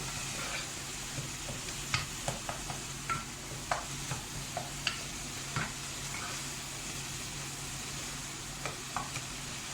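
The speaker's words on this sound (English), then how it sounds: "Now I am just waiting for my masala to get bhunod." Mutton kofta masala, cooked in the traditional Mathur style, softly sizzling and frying in a pan with scattered scrapes and clicks of a spoon stirring it, steady and close, with no talking.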